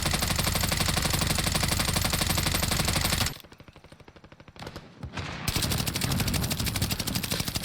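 Assault rifle fire in the Warzone video game, a sustained loud automatic burst aimed at pipes, then a brief pause and a second long burst, with no talking.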